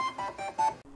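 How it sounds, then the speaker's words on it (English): A Bambu Lab A1 Mini 3D printer beeps out a short tonal melody produced by its stepper motors, a quick run of clear pitched notes lasting about a second. "That beeping is actually generated from the stepper motors and not from a speaker."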